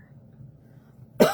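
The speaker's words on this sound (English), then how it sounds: "I've been trying not to cough." A single sharp cough bursts out after a second of near quiet, loud and close.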